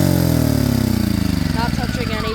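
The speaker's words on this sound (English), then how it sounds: "if I over rev it, the generator will just shut itself off" Predator 1400 watt inverter generator engine over-revving, a loud close engine whose pitch slides downward, pulsing rapidly as it winds down toward shutting off.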